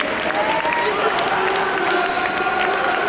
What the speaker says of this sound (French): Tenez un applaudissement pour Anne, s'il vous plaît.